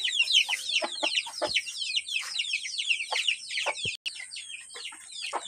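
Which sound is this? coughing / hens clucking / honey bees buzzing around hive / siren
hens clucking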